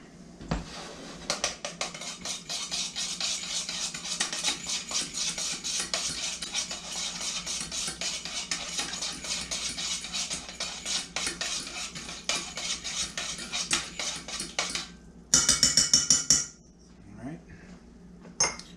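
A whisk beats bourbon, brown sugar and dry spices for barbecue sauce in a bowl, with rapid metallic clinking and scraping that runs steadily and ends in a brief louder clatter.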